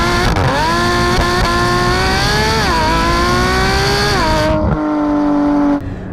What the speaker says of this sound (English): is what a flat six should sound like